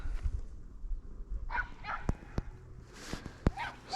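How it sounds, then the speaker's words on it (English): A dog barks a few times at a distance in the New Forest countryside near Woodgreen, sharp isolated yaps over outdoor ambience and wind rumble. "Somebody's dog."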